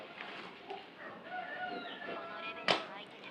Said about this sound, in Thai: ไก่มันเป็นอะไรวะ เยี่ยแม่งขันไม่หยุดเลยอ่ะ ขันไม่หยุดไม่หย่อน